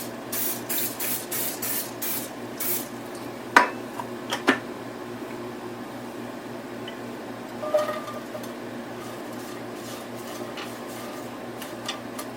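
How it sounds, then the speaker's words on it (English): Olive oil cooking spray hisses in several short bursts into a heating skillet, the sprays coming close together at the start, followed by a few quiet clicks and light clatter against a steady low background hum. "I'm going to add some olive oil spray to the pan."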